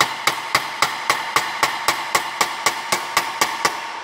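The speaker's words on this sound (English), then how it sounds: "you wanna use the flattest hammer you have. That would be a planishing hammer" A planishing hammer strikes sheet metal by hand while shaping replacement A-pillars for a 1939 Lincoln Zephyr: about fifteen sharp, evenly spaced ringing taps, close and clear, with no talking.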